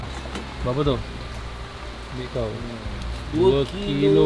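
Steady rain falling in a water village in Labuan, a continuous hiss under nearby conversation between two people.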